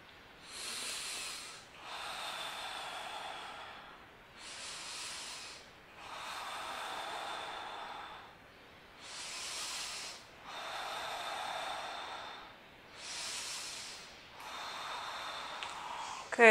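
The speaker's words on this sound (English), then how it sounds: "Take three breaths here." Deep breathing during a yoga pose, slow full inhales and exhales alternating in a steady rhythm, close and soft, about eight breaths with no talking.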